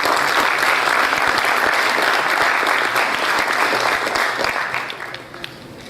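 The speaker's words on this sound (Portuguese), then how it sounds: "Vamos aplaudir a comendadora." Applause at an official Brazilian heraldry and humanities award ceremony honouring a commander: a full, even roar of many hands clapping that holds steady, then tapers off toward the end.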